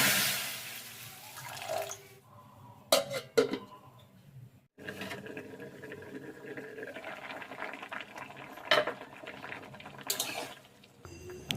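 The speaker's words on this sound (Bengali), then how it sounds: "এবার কড়াইতে নিয়ে নিচ্ছি সেই কোয়াশগুলো, এটা একটু জল দিয়ে সেদ্ধ করে নেব" Squash pieces simmering in water in a wok give a quiet, uneven bubbling and gurgling, broken by a few sharp clinks and louder splashes.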